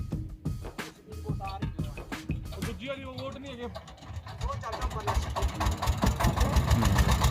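A generator engine chugs with a knocking rhythm that grows louder toward the end, while people talk nearby.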